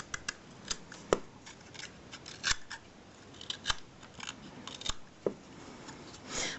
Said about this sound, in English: I'll just give this a few more slices, get it all done all the way through around.